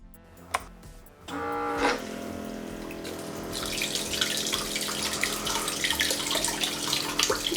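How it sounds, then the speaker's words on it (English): Water is pumped through the sampling system of a 3D printed RC utility boat, starting after a few clicks and clunks, then running as a steady, close gushing flow that grows fuller and splashier. "we can get some water flowing through here and see if it works"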